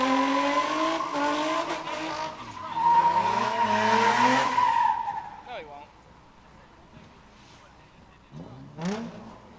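A G35-style race car at a test-and-tune track day slides under heavy throttle, its engine wailing and tires squealing in a long rising screech, then a shorter squeal follows after a quieter gap.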